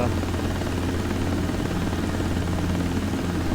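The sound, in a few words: helicopter engine and rotor in a desktop flight simulator game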